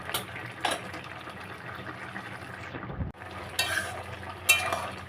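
Scraped pointed gourd cooks uncovered in its own released water in a pan for a prawn ghonto, with soft bubbling and a few bursts of spoon scraping, one brief near-silent gap in the middle.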